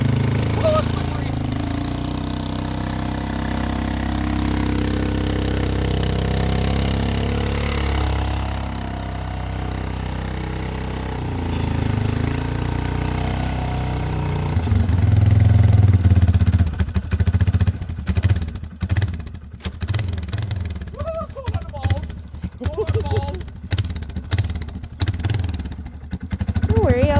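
A Polaris Sportsman 500 ATV cold-starting in winter: a low, steady engine rumble fills the first half, then grows louder and turns choppy with rhythmic revving pulses and clattering toward the end.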